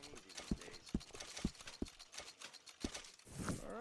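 Horse hooves clip-clop at a walking pace in Red Dead Redemption 2, a series of distinct, fairly close thuds with faint mechanical clicks and ambience between them.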